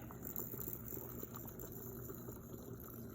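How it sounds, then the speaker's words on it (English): Steady bubbling and rumbling of boiling water in a laboratory water bath, a continuous low churning with faint rattles, moderately quiet and close. "I'm going to put it in my water bath, my boiling water"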